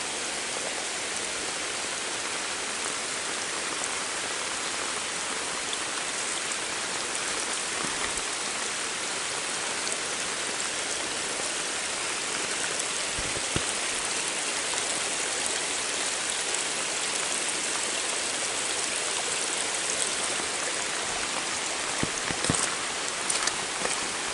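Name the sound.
heavy rain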